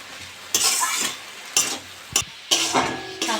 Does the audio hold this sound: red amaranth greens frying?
yes